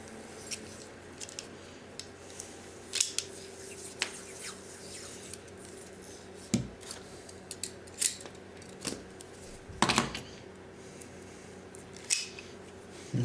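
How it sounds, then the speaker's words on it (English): Electrical tape is pulled and wrapped around brass pieces, giving soft scattered crinkles, sticky peels and sharp short snaps, faint and close, with no talking. "I'm going to strap these in electric tape to keep it from marring the brass"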